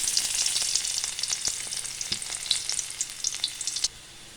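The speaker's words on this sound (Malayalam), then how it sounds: "ചുമന്നുള്ളി ഇട്ട് കൊടുക്കാം." Shallots fry in hot oil with a steady, bright sizzle and crackle, broken by soft stirring ticks, before the hiss suddenly drops away near the end.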